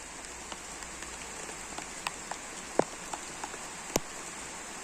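Steady soft rain hiss with scattered distinct drops tapping nearby, a few louder plinks standing out; no voices.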